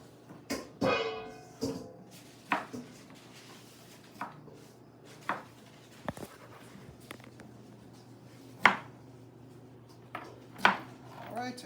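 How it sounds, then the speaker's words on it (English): A knife taps against a cutting board in irregular, spaced strikes as vegetables such as cucumbers are chopped, fairly close, with a few clinks of dishes and a low hum underneath. "we'll start chopping some other veggies"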